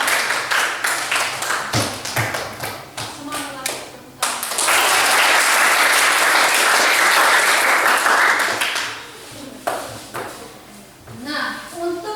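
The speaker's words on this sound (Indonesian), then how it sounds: "Tepuk tangan buat kelompok 4" A class claps for a student group after its presentation, with a dense burst of applause lasting several seconds, framed by scattered taps and claps and nearby voices before and after.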